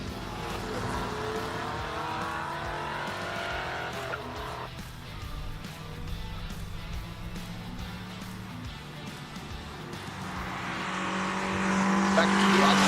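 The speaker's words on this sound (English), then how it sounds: "We've got cars on track now, so let me stop talking and let the cars do the talking." Classic race cars lap the track at Simola during Classic Car Friday free practice, engines roaring past with rising and fading revs, tire noise and a louder car closing in at the end, with faint talk underneath.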